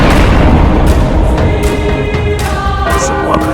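A loud, sustained booming roar from a grenade explosion sound effect fills the whole stretch, dense and rumbling with faint crackling tones on top, no talk.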